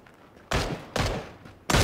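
Three loud, close gunshot bursts in the battle royale game PUBG on the Miramar map, each a sharp blast with a short decaying tail, spaced about half a second apart.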